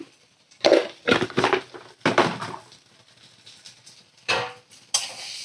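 Spatula scraping and stirring turmeric, Kashmiri red chilli powder and salt in a pan, a few bursts of scraping and clinking separated by quiet gaps.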